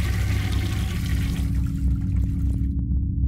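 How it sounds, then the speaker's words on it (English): Toilet flushing in the video game City Of Nightmares, a loud rushing gurgle of water with low churning that fades toward the end into a few faint drips. "Flush?"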